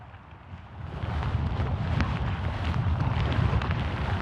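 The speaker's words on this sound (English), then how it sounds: "We've got the wind coming straight at us from the front, from downriver here." Headwind roars across a boat travelling down the Tanana River in Alaska, a dense, steady rushing noise that swells after the first second and stays loud with no talking.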